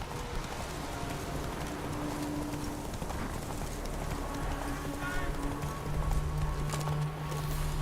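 Roach the horse's hooves clip-clop steadily on the ground in The Witcher 3 video game, a continuous trotting rhythm over a dense game soundscape with music and ambient noise.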